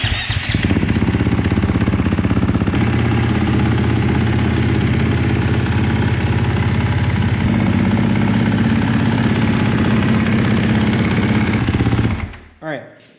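A 2023 KTM 450 SX-F Factory Edition motocross engine, just started after an oil change, idles loudly and close with a fast rattling thrum for about twelve seconds before cutting off.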